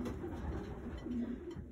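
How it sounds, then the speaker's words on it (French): A racing pigeon gives a soft, low coo close by, a brief murmuring call lasting under two seconds over quiet background noise. "C'est compact, c'est bien équilibré, c'est des pigeons"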